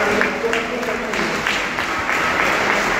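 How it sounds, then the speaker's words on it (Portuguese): A congregation at Mass applauds in a steady wash of clapping from many hands, moderately loud and reverberant, with no speech over it. "pedir um aplauso para o humano"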